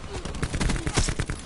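Rapid gunfire in a shooter video game, a quick run of sharp, evenly spaced shots at moderate loudness, packed tightly together in a brief burst.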